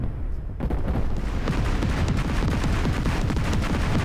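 Warship cannons fire in War Thunder Mobile, a run of heavy booming shots and rapid gunfire that keeps up loud and dense for several seconds after a brief quieter start.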